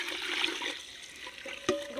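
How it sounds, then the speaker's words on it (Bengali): Boiled milk poured into a pot, a short liquid splashing and gurgling flow lasting about two seconds, fairly quiet, ending with a small clink. "দুধটা ঢেলে দিলাম।"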